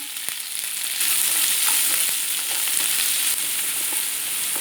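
Chopped onion and curry leaves hiss and sizzle in hot oil for wheat upma, a steady, fairly loud frying crackle with a few faint stirring clicks and no voices.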